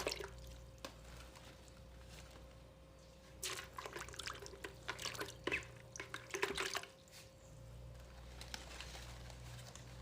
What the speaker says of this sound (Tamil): க்ளீன் பண்ணி இதை வந்து தண்ணியில் இப்படி போட்டு